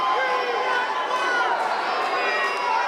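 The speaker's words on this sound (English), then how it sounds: "Listen to this ovation for Scotty Too Hotty." Wrestling crowd at a live indoor event roars in a sustained ovation for a wrestler, a dense wall of cheering and shouting with voices blending in the noise.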